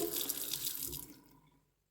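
Warm water runs from a kitchen tap into a sink during dishwashing, fed by a boiler that is still heating, a steady splashing stream that tapers off and stops after about a second and a half.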